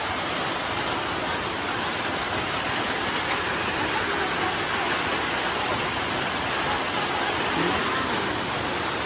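Heavy rain pours steadily and loudly, a dense unbroken roar of water hitting surfaces with no pauses from start to finish.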